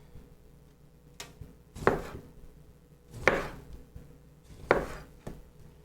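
A knife cuts a lime into wedges on a cutting board, making three distinct, evenly spaced chops with a slight scraping decay after each, close and clear in an otherwise quiet kitchen.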